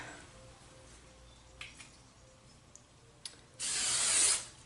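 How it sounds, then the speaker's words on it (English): Aerosol hairspray sprayed underneath the hair while styling beach waves: faint clicks and rustles, then one loud, close hiss lasting under a second. "And then so I just usually spray underneath."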